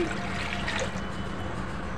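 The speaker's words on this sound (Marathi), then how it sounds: "कढईमध्ये मी पाणी घालत आहे।" Water pours into a wok to boil for masala cheese pasta, a steady close trickling stream running without a break and with no talk.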